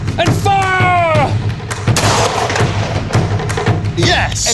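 Muzzle-loading rifles fired in a volley, heavy booms and bangs close by, mixed with shouting voices and cheering.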